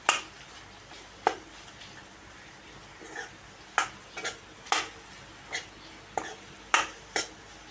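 A utensil stirs potatoes and onions frying in a pan, giving a dozen or so sharp scraping strokes at an irregular pace over a faint, steady sizzle, close by with no talking.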